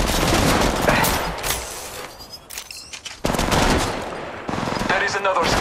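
Rapid bursts of machine gun fire in a shooter video game, loud and close, with short pauses between strings of shots and a voice speaking in the gaps.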